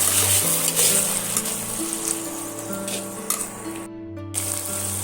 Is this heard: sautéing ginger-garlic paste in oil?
yes